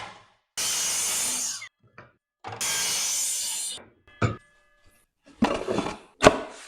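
A power saw cuts a cedar fence picket board in two loud, roughly one-second bursts, followed by a few short clatters and knocks of wood being handled nearby.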